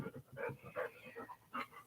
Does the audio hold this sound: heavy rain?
no